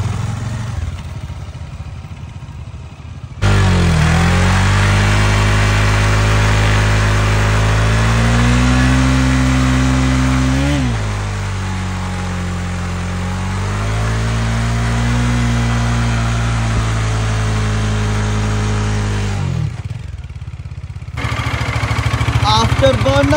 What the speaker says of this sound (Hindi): बर्नआउट टायर घिस गया रे भैया।